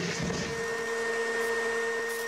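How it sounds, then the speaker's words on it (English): A smart vacuum cleaner attacks in the video game There Is No Game. A steady, loud mechanical whine with sustained tones drones without a break, alone and with no talk. "His smart vacuum cleaner is attacking him."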